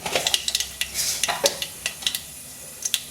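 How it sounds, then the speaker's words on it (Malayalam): Mustard seeds pop and crackle in hot coconut oil in a heated kadai, with a quick irregular run of sharp, close snaps over a soft sizzle. "കടുക് പൊട്ടുന്നുണ്ട്."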